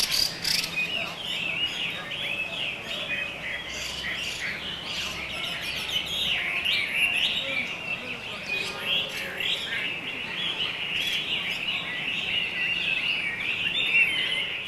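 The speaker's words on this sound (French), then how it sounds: "Dans ce paisible parc, les Chinois apportent leurs oiseaux en cage pendant qu'ils jouent aux cartes." Caged birds kept by people in a peaceful park in China chirp and trill continuously, many calls overlapping in a bright, busy chorus with insect-like buzzing underneath.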